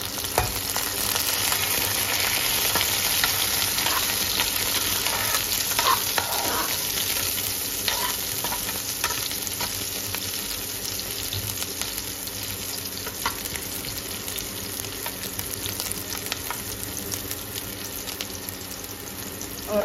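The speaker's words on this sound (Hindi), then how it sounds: "इसमें हम डाल देते हैं हरी मिर्च।" Green chillies sizzle and fry steadily in a pan for ridge gourd sabzi, a continuous close crackling hiss with occasional stirring scrapes and no talking.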